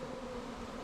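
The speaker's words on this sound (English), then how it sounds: "I had two bees land on me at the same time" Honey bees hum around a hive where drones are present, a steady close-up buzz with a clear droning pitch that lasts under a second.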